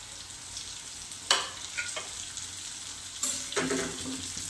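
Chopped okra sizzles steadily in a hot pan while being stir-fried, the close frying hiss swelling with two louder bursts of scraping and stirring.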